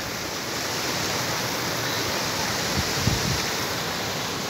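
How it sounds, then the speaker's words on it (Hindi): A waterfall rushes in a constant, broadband roar, water crashing down close by with no pauses and only a couple of small bumps in the steady noise. "और ये देखें जी नज़ारे आबशार के नज़ारे, और जी ये पानी"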